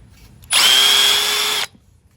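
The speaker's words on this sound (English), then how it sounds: "I'm just basically drilling a shoulder inside this hole" A power drill with a 1/4 inch bit bores a shoulder inside a hole, running in one loud, steady whine for about a second before cutting off, near and alone.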